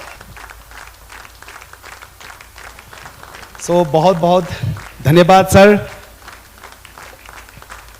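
The crowd at the Arunachal's Super Dancer grand finale in Seppa welcomes a guest on stage with steady, moderately loud clapping throughout. Someone speaks over it briefly in the middle.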